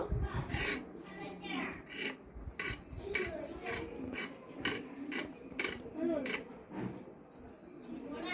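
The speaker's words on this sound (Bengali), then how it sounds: "আমি গাজরটার গাটা একটু ভালো করে ছুলে নেব।" A carrot is peeled by hand in a home kitchen, giving repeated short rasping scrapes in a steady rhythm. The scraping sounds close and soft, with faint clinks of utensils in the background.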